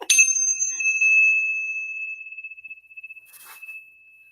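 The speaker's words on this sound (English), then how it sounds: "And these are my bells." Hand bells ring out clearly, a bright struck tone with a long shimmering decay, followed by a fainter second jingle near the end.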